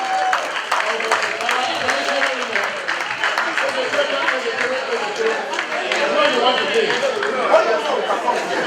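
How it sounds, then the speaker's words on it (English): Convention audience clapping steadily in a dense, continuous wash of applause, with crowd chatter and voices mixed underneath throughout. "Let's give the beautiful hand applause to the"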